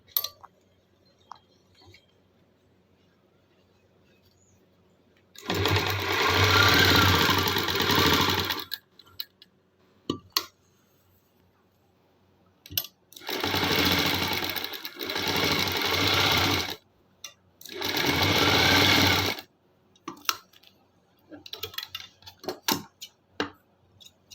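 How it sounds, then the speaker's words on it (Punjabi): Domestic sewing machine stitching the shoulder seam of a garment: three loud, steady whirring runs of rapid stitching, the first longest, separated by quiet pauses and light handling clicks. "ਐਦਾਂ ਜਮਾ ਸਹੀ ਕਰਕੇ ਸਲਾਈ ਲਾਉਣੀ ਆਪਾਂ ਨੇ"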